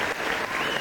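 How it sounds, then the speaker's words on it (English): A brief burst of dense applause from a crowd at a hurling match, the 1998 All-Ireland Senior Hurling Championship Final between Offaly and Kilkenny, loud and continuous for under a second. "a big round of applause for two fine Offaly players"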